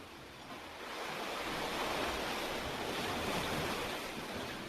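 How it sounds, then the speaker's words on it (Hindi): Ocean waves on a seashore, a continuous broad roar of surf that swells after the first second and holds steady, with some wind noise and no voices. "पानी की उछलती मौजों की गहन आवाज़ आपके ही आनंद की अनुभूति का प्रतिध्वनि है।"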